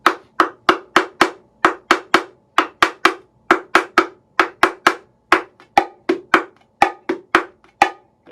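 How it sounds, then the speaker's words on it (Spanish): A rapid series of sharp, dry bongo strokes, evenly repeated in quick rhythm, each a crisp muted slap made by pressing the drumhead in the martillo pattern. "uno muy importante que es el martillo, que utilizamos presionando parche y haciendo látigo"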